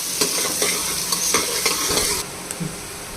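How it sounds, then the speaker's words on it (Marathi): Finely chopped onion frying and being stirred until soft for mutton, a loud close sizzle punctuated by repeated spoon scrapes and knocks against the pan. "कापलेला बारीक कांदा तो पण फ्राय करून घ्यायचा आहे कांदा थोडासा नरम होईपर्यंत परतवायचा आहे"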